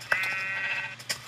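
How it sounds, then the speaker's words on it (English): A Minecraft sheep gives a single drawn-out bleat, loud and near, with a short extra bleat and a click after it, and no talking. "Shut up, sheep."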